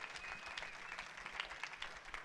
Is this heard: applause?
yes